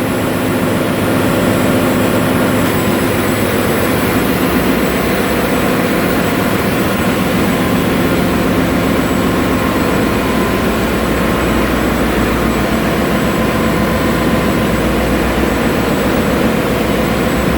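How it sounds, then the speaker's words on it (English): Blower in a large ship's engine room roars continuously and loudly, a dense, steady broadband rumble with a faint high tone on top and no break throughout. "Blower is running."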